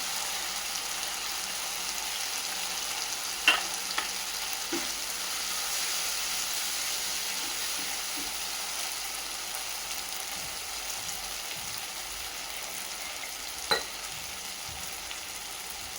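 Quiet, steady sizzling from a pan of vegetables sautéing for chilli paneer, with occasional soft clinks of a utensil, and no voices.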